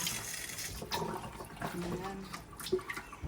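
Water drains and trickles through a colander into a bowl while rinsing ingredients in a kitchen, a soft uneven splashing and dripping at close range, with a person talking quietly over it.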